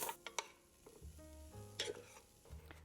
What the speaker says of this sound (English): I'm not going to put any oil in my pan, and we're going to saute this for a bit